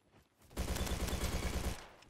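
A STEN submachine gun fires one steady full-auto burst of roughly a dozen evenly spaced shots lasting just over a second in the shooter game Bad Business, loud and close, with quiet moments before and after.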